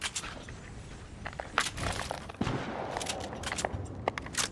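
Distant bursts of rapid gunfire from an enemy team in a Fortnite Chapter 3 match, crackling in scattered volleys mixed with footsteps and rustling movement.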